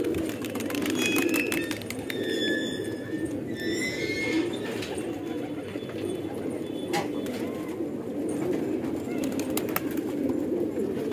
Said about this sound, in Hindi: एक कबूतर और पसंद आया भाई रेखता कांगिया ये गूंज रहा